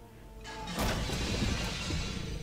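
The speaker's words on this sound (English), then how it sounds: "the muffled shouts and sounds of, a cra of crashing pots and pans coming from the door on your left" Crashing pots and pans from a door off to the left in the Mansions of Madness app, a muffled metallic clatter that swells in at once and keeps rattling and banging under a low droning background.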